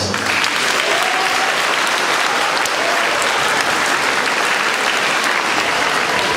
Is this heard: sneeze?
no